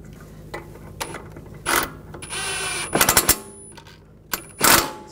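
Mechanical ratcheting on the suspension of a 2004–2009 Audi A4 Quattro while a bolt is snugged down: several short bursts of rapid clicks close to the microphone, separated by quieter pauses, with no talking.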